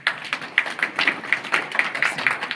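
Audience applauding at a community conference, a steady patter of many hands clapping throughout at moderate loudness, with no talk over it.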